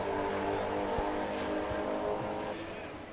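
A Corvette race car on the drag strip at an NMCA event, its engine roaring steadily at a distance with a brief bark at a gear change, tapering off slightly toward the end, with an announcer talking over it.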